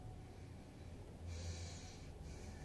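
A deep inhalation during a guided meditation, a soft airy breath drawn in through the nose and swelling midway, heard alone and close.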